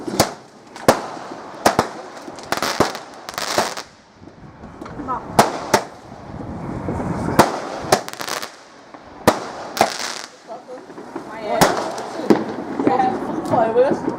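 Fireworks at a November bonfire-night display, including a five-shot cake, crack in a series of sharp bangs at irregular intervals, some close and loud, while people chat throughout.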